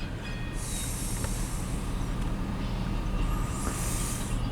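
A long CN mixed freight train rolls westbound through Port Huron, Michigan, a steady close rumble of wagons with bursts of high wheel squeal, loud and continuous with no talking.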